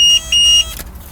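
A compact electronic fishing bite alarm sounds two short, high-pitched beeps in quick succession, close and clear, then falls quiet.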